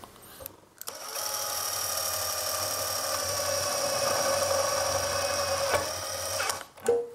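A Tekiro 20V CDID2071 cordless impact driver, set to its first speed, drives a self-drilling screw into light steel, giving a steady high whirring whine for about five seconds that stops abruptly, with no talking.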